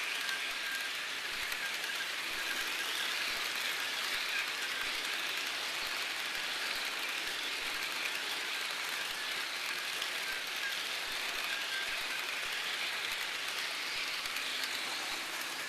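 HO scale model train engine running on track, pulling a caboose in a Union Pacific set, a steady dense clattering, whirring rattle that continues unbroken and fairly loud throughout.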